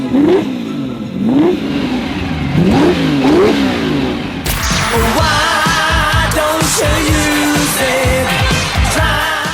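Engine of a 1972 Lamborghini Miura S revving, rising and falling in repeated pitch sweeps over several seconds, then joined by dense music layered over the engine roar.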